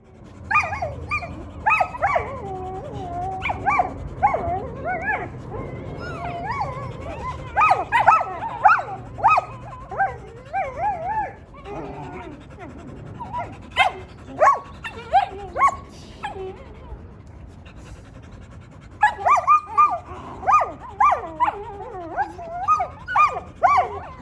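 Puppies bark, yip and whimper in irregular bursts, close by and fairly loud, with short pauses between clusters of high-pitched cries.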